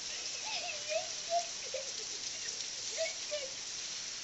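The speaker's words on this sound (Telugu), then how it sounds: "అది చూడండి, ఎంత పెద్ద వర్షం పడుతుంది" Heavy rain pours down in a steady broadband wash that fills the whole clip, with a few faint voices rising briefly beneath it.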